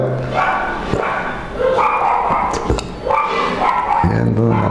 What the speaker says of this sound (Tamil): நாய் கத்திக்கிட்டு கிடக்குதுன்னு